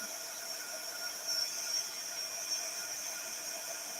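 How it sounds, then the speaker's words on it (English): Steady, faint broadband hiss with a soft airy whir, like a small heater fan running continuously with no change in level. "Sorry for the noise, it's a heater."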